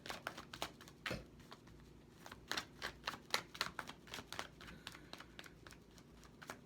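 Tarot cards being shuffled by hand, soft, close riffles and flicks in an irregular rhythm that keep going throughout, faint and without any talk.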